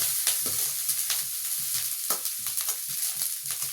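Chowmein noodles with onion and peanuts are stir-fried in a hot pan, a bright continuous sizzle broken by repeated scraping and tossing strokes in an uneven rhythm, close and fairly loud.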